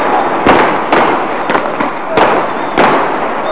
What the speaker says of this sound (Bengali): রাবার বুলেট, সাউন্ড গ্রেনেড এবং টিয়ারশেল নিক্ষেপের মধ্যেই বিএনপি কার্যালয়ের সামনে দফা বিস্ফোরিত হয় ককটেল।